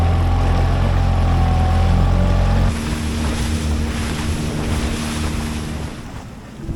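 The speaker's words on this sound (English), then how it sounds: "We're having a great sail as we head through the Whitsundays." A sailing boat under way through the Whitsundays, with steady wind rushing over the microphone and water washing along the hull; a low drone drops off partway through, leaving broadband wind and sea noise throughout.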